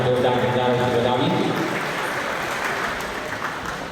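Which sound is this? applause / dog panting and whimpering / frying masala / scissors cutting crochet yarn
applause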